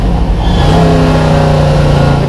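A Lola T70 Mark 3B racing car's 650bhp V8 engine revs and climbs in pitch with a deep, throaty roar, very close and continuous.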